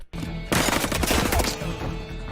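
Gunfire in an action film scene where a woman is shot in the stomach: a loud burst of shots and impacts starts about half a second in, dense for roughly a second, then fades into rumbling background.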